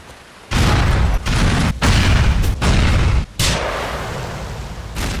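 Grenade explosions in the video game Grand Theft Auto IV: a run of four or five loud, booming blasts in quick succession, each with a rumbling tail, followed by a fading roar.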